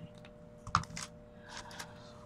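Typing on a computer keyboard, a short sparse run of quiet clicks with one louder key press near the start, close and isolated in a quiet room.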